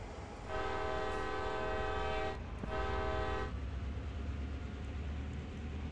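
A diesel horn blares twice in long sustained blasts over a low engine rumble as a CSX coal train in Train Sim World: CSX Heavy Haul gets under way, then the engine drones on alone.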